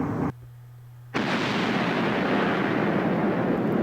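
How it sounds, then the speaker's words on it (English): A missile explodes in the Minecraft Voltz mod, cutting out briefly and then rolling on as a loud, broad, sustained roar of blast noise. "This made quite a blast."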